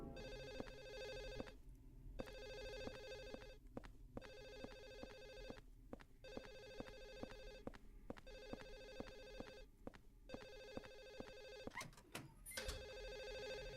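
A telephone rings repeatedly in a steady pattern of bursts with short pauses in the Silent Hill 4 video game, faint and alone with no talking.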